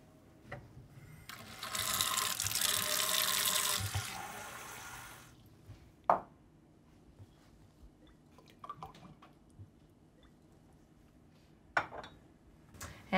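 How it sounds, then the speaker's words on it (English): Half a cup of water and a quarter cup of neutral oil are poured into a measuring cup: a few seconds of steady, close splashing pour, then quiet with scattered clinks and taps. "grab your measuring cup and add a 1/2 cup of water and a 1/4 cup of neutral oil"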